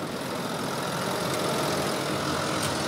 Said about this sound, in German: fährt den Traktor.